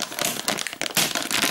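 Plastic wrapping foil crackles and crinkles in bursts as a 12V to 230V inverter is unwrapped, close and fairly quiet, with irregular rustling pulses and no talk.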